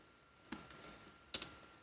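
A few quiet, scattered clicks from a computer keyboard end in a pair of sharper taps on the enter key, close and faint against a near-silent room.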